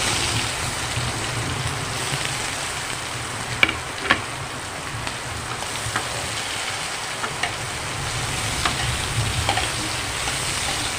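Chopped onions frying in hot oil with cardamom, cloves and garam masala for a Bengali katla fish bhuna ghonto, a steady close sizzle with soft crackles and occasional stirring clicks throughout.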